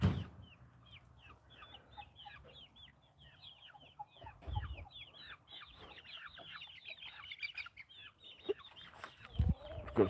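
Farm rooster clucking in quick irregular bursts, many short calls layered with other fowl in an outdoor yard, moderately near, with a few louder knocks and handling sounds.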